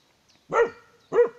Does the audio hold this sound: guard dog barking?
yes